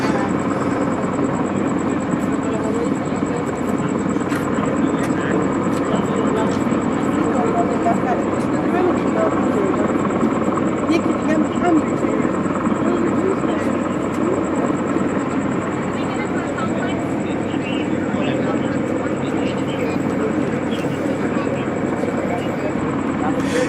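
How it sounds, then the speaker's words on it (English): A steady low rotor and engine drone from a helicopter hovering overhead at a street accident scene holds throughout, continuous and fairly loud, with faint voices mixed underneath. "we also have one helicopter above"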